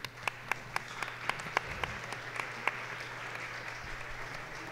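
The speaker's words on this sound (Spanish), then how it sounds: "A Alejandro de la Torre, un aplauso, por favor." Applause rises from the audience at a public forum, a broad crowd of clapping with a few sharp, close individual claps standing out in a loose rhythm, and no speech over it.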